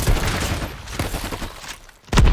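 A grenade launcher fires in an online shooter, heavy booming blasts rolling together, loud and near, with a sharp report at the end.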